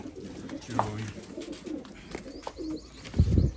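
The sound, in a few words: pigeons cooing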